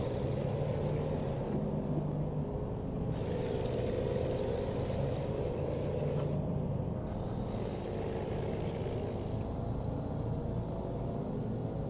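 Truck engine in American Truck Simulator pulling hard and skipping gears on the low end, a dense steady roar close up with rising and falling whines as shifts come through, no talking.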